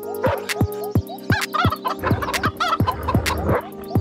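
Chickens in a video game cluck in quick repeated bursts, several birds overlapping in a busy, loud run of short calls with no talking.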